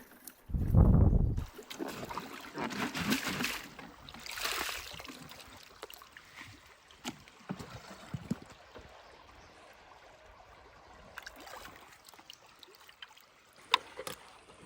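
Clear water flows in a forest stream deep in dense jungle, a steady broadband rush and trickle lasting throughout, with occasional louder splashes and knocks close by.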